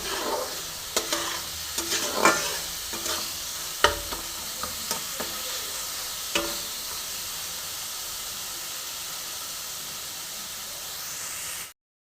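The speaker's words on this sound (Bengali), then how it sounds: "এই মশলাটা খুব ভালো করে কষতে হবে যতক্ষণ পর্যন্ত কাঁচা গন্ধটা থাকবে ফ্লেমটা বাড়িয়ে দিচ্ছি এবারে সুন্দর করে কষবো" Masala spice paste frying hard in a wok over raised flame for a rohu fish head and taro curry, a steady close sizzle and hiss broken by scraping stirs and sharp clanks, with no talk.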